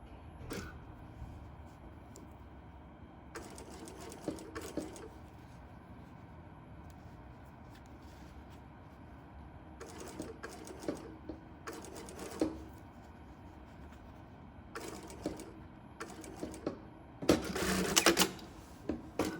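A sewing machine stitches a fabric gusset in several short runs of mechanical whirring, separated by quieter pauses over a steady background hum.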